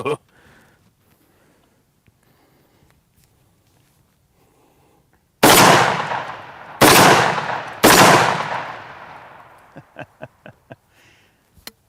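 A Mag 10 shotgun with a full choke firing three loud, close blasts in quick succession, each booming report trailing off, followed by a short run of lighter clicks and clacks.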